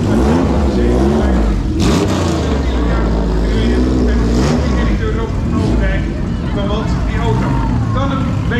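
A historic Bristol car passes in a parade at Zandvoort circuit, its engine rumbling loudly and steadily beneath a continuous announcer's commentary over a public address system.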